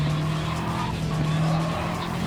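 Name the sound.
race car heavy braking, tires skidding, from a racing video game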